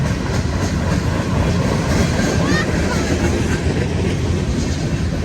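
A long CSX freight train rolls past close by, a loud continuous rumble with rhythmic clickety-clack of wagon wheels over the rails throughout.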